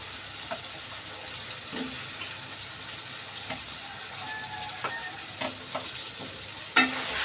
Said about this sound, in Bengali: এখন আলুর সাথে কষিয়ে নেব ভালোভাবে।